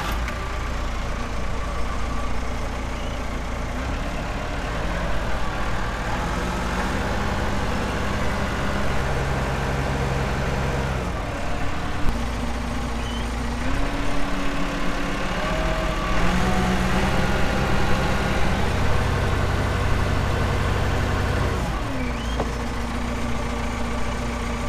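Massey Ferguson tractor engine running steadily for the whole stretch, a loud low diesel drone with shifting harmonic tones as the throttle changes, no talk over it.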